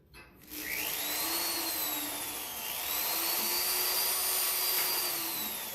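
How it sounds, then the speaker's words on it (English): A small high-pitched drill with a small bit whines steadily as it bores a pilot hole in a rusted car door, its pitch wavering slightly under load, close and fairly loud. "I use a really small drill bit as a pilot hole."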